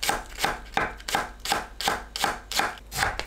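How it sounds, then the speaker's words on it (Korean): A knife chops green onion on a cutting board in a steady rhythm of about nine crisp, even strokes, close and loud, with no talk. "대파를 썰어주세요"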